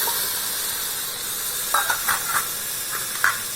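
Chayote dropped into a hot pan of softened tomatoes, a steady close hiss of sizzling with a few brief spatters and soft stirring sounds toward the end.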